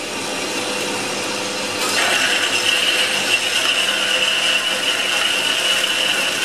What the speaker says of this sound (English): we'll cut a little bit of steel off